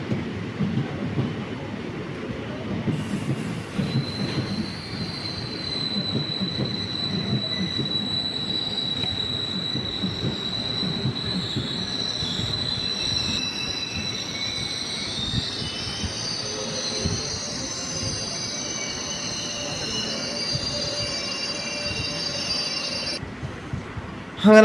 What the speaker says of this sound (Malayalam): അങ്ങനെ ആ ട്രെയിൻ വന്ന് പോയതോടുകൂടി